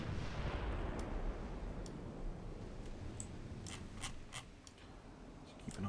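A 12-inch naval gun fires in Ultimate Admiral Dreadnoughts, a heavy, booming blast that rolls into a long decaying rumble, with scattered sharp ticking interface clicks over the tail.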